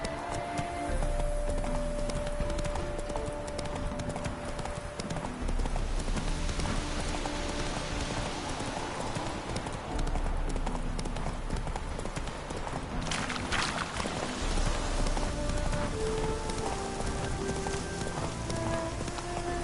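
Roach, Geralt's horse in The Witcher game, gallops in a steady rapid clip-clop of hooves throughout, close and loud over a wet, rain-like background wash and faint game music.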